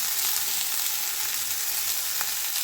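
Spinach and mixed vegetables sizzle in a pan with a little oil, salt, chilli powder and turmeric while being stirred, a steady close hiss with faint scraping touches and no talk.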